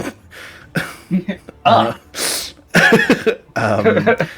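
A voice imitates a ghoul coughing up teeth, producing a series of harsh, gurgling, throaty bursts, loud and close, with short pauses between them.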